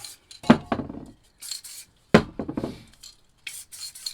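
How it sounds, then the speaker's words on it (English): Short hissing bursts from a spray paint can fitted with a fat cap alternate with a few sharp clattering knocks, close and fairly loud, with brief quiet gaps between. "Spray some paint through"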